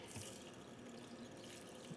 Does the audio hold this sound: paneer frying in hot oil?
no